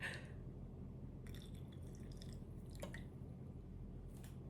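A drink bubbling in a glass gives a few quiet wet drips and squishy pops over a steady low background hum, with no voices.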